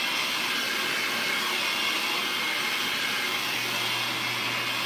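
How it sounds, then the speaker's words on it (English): A blow dryer runs steadily as hair is dried and styled with a brush, giving a constant loud, airy whoosh that stays even throughout without pauses or talking. "So we blow it dry the way we want it to go."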